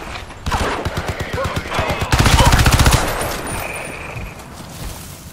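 Video game gunfire from Crysis 3 rattles out in rapid bursts of machine-gun shots, loud and close, with a dense sustained volley in the middle before it tapers into quieter scattered shots and background noise.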